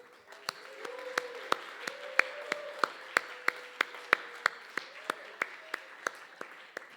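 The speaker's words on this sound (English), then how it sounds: "a round of applause for Neil and Dan and Lydia and Finn" Applause at an Ignite talks night comes from a modest crowd as a steady, rhythmic clap leads over lighter scattered clapping, with low voices murmuring underneath.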